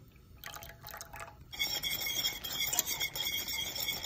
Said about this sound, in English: Now I'm gonna add a little bit of cornstarch and water,